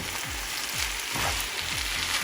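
Sauce poured over chicken chow mein sizzling in a hot pan, a steady close frying hiss with repeated low scraping stir strokes through the noodles.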